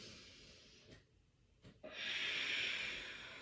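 A slow breath held in a yoga bind during a wide-angle forward fold: a soft, close intake followed by a longer, airy exhale that swells and fades, alone and fairly quiet.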